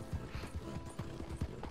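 Horse hooves in the Red Dead Redemption 2 video game clip-clop in a steady, fairly quick rhythm, close and moderately loud, with faint creaking tack and no talk.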